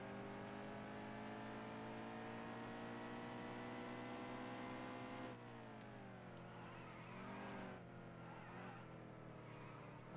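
A race car engine drones in the NASCAR Heat 2 video game, holding a steady high-pitched whine, then dipping and rising again as the car slows and accelerates, quiet and continuous.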